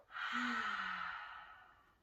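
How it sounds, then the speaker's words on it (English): A single deep breath lets out in one long, close sigh that swells and then fades over about two seconds, during a children's yoga session. "Take a big breath in and out."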